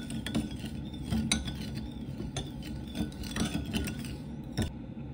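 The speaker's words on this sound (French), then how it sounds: "je mélange." A spoon stirs sugar, water and fish sauce together in a bowl for a Vietnamese spring roll dipping sauce, a steady run of close, soft metallic scraping and clinking against the bowl with no talk.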